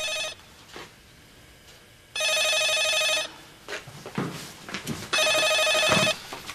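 A telephone rings indoors in a drama scene, with about three bursts of bright, steady electronic ringing separated by short pauses that carry low rustling and movement.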